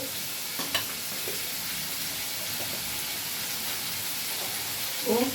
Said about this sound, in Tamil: இந்த பச்சை மிளகாயும் இப்படி எடுத்து போட்டுக்கலாம். இது நல்லா பாருங்கள், பச்சை மிளகாய் வெங்காயம் நல்லா வதங்கிடுச்சு.